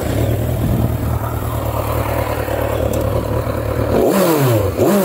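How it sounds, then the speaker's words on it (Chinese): A Kawasaki motorcycle engine idles loud and close with a steady, even throb, then revs up with a rising whine toward the end. "最后呢才是打火听发动机的声音"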